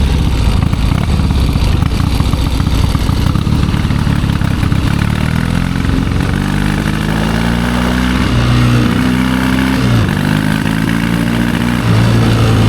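A 1972 Triumph 650 Bonneville motorcycle engine runs loud and close, idling roughly before revving up and down through several rising and falling pulls.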